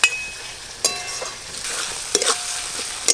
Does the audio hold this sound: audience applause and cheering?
no